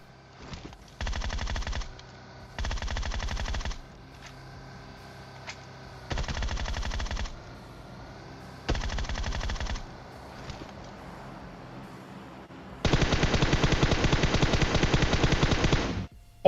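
Automatic gunfire in PUBG Mobile comes as four short, loud bursts spaced a couple of seconds apart, then one long sustained burst of about three seconds, with quiet gaps between.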